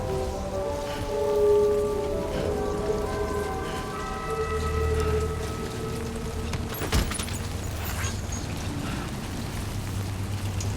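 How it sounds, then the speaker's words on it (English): Rain beginning to fall on a beach, a soft steady patter with a low rumble underneath and a sharp knock partway through. "I guess it's gonna start raining."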